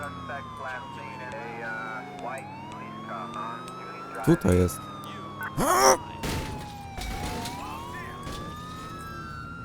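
Police car sirens wail continuously in GTA IV during a car chase, a close, rising and falling tone with engine noise, a couple of loud crash impacts midway, and someone speaking briefly over it.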